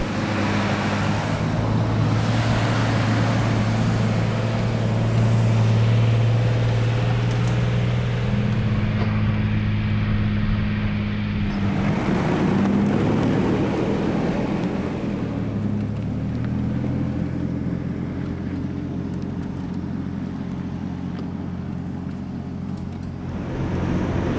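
A truck crawls slowly up a rough trail in low range in northeastern Oregon, its engine a steady low drone with shifting pitch throughout, joined by wind buffeting and no talking.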